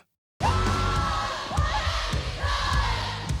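A huge concert crowd at Lollapalooza sings and yells along with the performer, a roaring mass of voices that bursts in after a moment of silence and stays loud and dense to the end.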